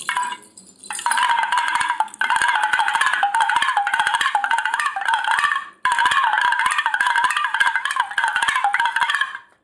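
A kudukuduppai, a small hand-shaken drum, is played with its bells removed. It gives a loud, close, rapid rattling patter of beats that runs almost continuously, with brief breaks near the start and midway.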